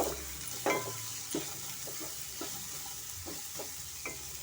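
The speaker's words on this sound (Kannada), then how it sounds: "ಮೀಡಿಯಂ ಫ್ಲೇಮಲ್ಲೇ ನಾವು ತರಕಾರಿ ಸ್ವಲ್ಪ ಫ್ರೈ ಮಾಡ್ಕೊಳ್ಳೋಣ" Vegetables for vegetable shavige bath frying in a pan over a medium flame, a steady soft sizzle broken by several brief scraping stirs, close and fairly quiet.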